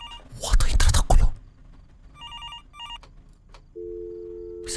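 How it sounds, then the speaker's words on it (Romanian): A telephone in a horror video game rings in short, bright, repeated trills after a loud noisy burst, with a person talking over parts of it. "De ce sună telefonul că nu merge?"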